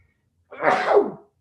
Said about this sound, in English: sorry, I'm about to sneeze here.